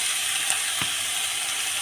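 Carrots sizzling in hot ghee while gajar halwa is being made, a steady, broad frying hiss throughout with one brief clink partway through, no voices.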